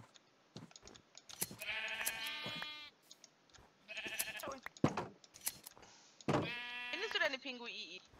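Minecraft sheep bleat in several wavering, harmonic-rich cries spread across the stretch, with clicky keyboard typing and soft game noises around them; no talk is heard.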